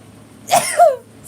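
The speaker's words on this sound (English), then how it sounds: "I'm gonna sneeze." A single close sneeze from a woman during a live tarot fundraiser stream indoors, two loud bursts in quick succession, alone without talk.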